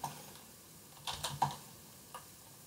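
A few quiet, scattered keystrokes on a computer keyboard while entering a query into MicroStrategy analytics software; soft, close taps in short irregular bursts over near silence.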